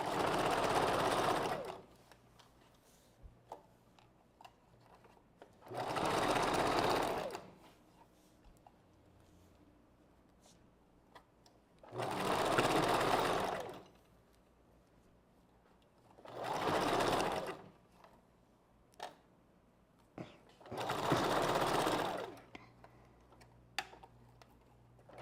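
A sewing machine stitches wig wefts in five separate bursts of rapid whirring, each lasting a second or two with short quiet gaps between, close by and with no talking.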